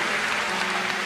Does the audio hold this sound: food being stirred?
no